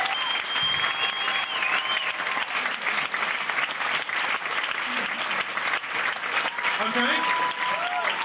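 A studio comedy show audience gives ten new comedy contestants sustained, dense applause that holds steady and loud throughout, with a host's voice briefly heard over it.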